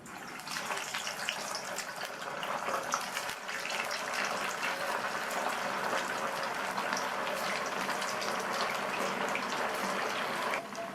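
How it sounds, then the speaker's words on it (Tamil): Sago vada deep-fry in hot oil in a kadai, a dense, steady, close sizzling and bubbling that continues evenly throughout with no voices. "ஒவ்வொரு வடையாக எண்ணெயில் சேர்த்துடலாம்."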